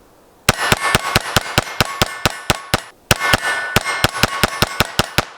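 A Sig P322 pistol fires in rapid strings, about two dozen sharp loud reports in quick regular rhythm with one brief pause, each crack ringing with a metallic edge.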